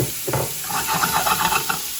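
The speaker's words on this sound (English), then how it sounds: "All right, we're at a nice sizzle." Shrimp sizzle steadily in a hot pan, a loud continuous hiss with small crackles and pops throughout.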